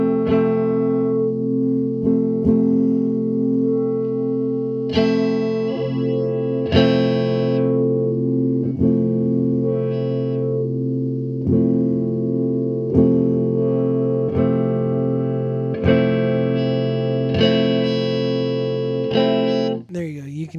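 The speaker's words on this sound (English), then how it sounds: "I'm gonna adjust the filter so you can kind of hear how it's a low pass filter" An Eventide Rose delay pedal processes a sustained guitar tone while its low pass filter is adjusted, the bright upper content swelling and dulling between repeated plucked chords, loud and continuous with echoing repeats.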